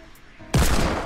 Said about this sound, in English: finish him off with the deagle.